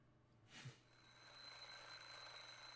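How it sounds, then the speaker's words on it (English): In a video game, an alarm clock rings with a thin, sustained high electronic tone after a brief soft thud, quiet and steady, with nothing else audible. "And alarm clock again."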